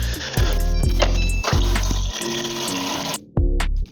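Tap water runs and splashes into a sink in a steady, loud rush that briefly cuts off near the end and then resumes.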